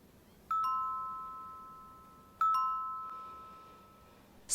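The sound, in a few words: doorbell ringing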